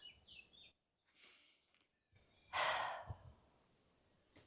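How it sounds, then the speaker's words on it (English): Slow, deliberate breaths during somatic breathwork: soft airy exhalations and a longer, louder sighing breath near the end, close and intimate, in a quiet room with no speech. "Breathe."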